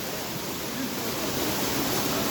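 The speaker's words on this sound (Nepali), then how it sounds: "ल ल यो झरनामा आइपुग्यौँ हामीहरू" A waterfall deep in dense jungle gives a steady, even rush of falling water, close and continuous, with no other sounds standing out.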